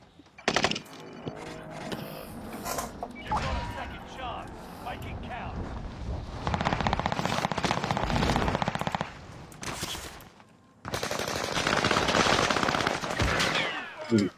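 Gunfire in the Call of Duty: Warzone video game, with bursts of automatic fire in several loud stretches and sharp single shots between them, while players talk over the action.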